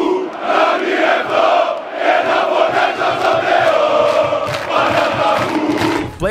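A huge crowd of 42,000 roars and chants continuously at the Panathinaikos versus Partizan Belgrade basketball warm-ups, a loud, dense wall of massed voices with rising swells throughout.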